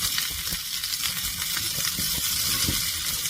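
Garlic and onion fry in a hot pan for an abalone dish, giving a steady close sizzle with occasional stirring clinks and no talk.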